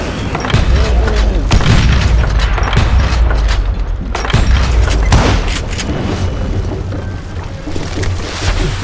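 Dense barrage of booming dynamite blasts and gunfire in the Western shooter Call of Juarez Gunslinger, loud and continuous with heavy low rumble and overlapping thuds throughout.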